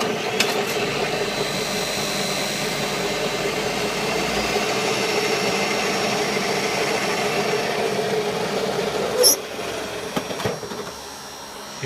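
An electric riding lawn mower conversion throttled up, giving a steady mechanical whir and hum that runs continuously and fairly loud, with a few clicks and knocks near the end, no talk.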